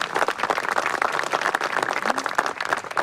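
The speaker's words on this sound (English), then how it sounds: "Let's give him a round of applause." Outdoor crowd at a 2019 Memorial Day service at Valley Memorial Park gives a steady, dense round of applause with many hands clapping at once, filling the air evenly throughout.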